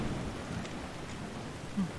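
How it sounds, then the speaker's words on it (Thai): Steady rain falls in Skyrim, a soft continuous hiss that stays even through the short stretch, with a low rumble near the end and no talking. "ฝนทำไมตกแค่ข้างหน้ากู"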